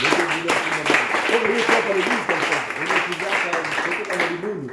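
Church congregation applauding, with clapping mixed under loud singing or chanting voices throughout a short burst.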